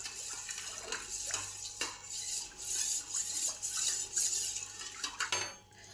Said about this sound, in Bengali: আবার সব একসঙ্গে মিশিয়ে নিলাম।